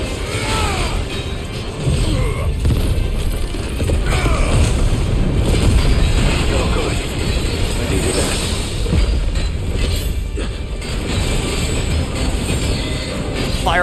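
Mega Flare attack in the Final Fantasy XVI video game: a loud, sustained explosive roar with heavy rumbling that fills the whole stretch without letting up.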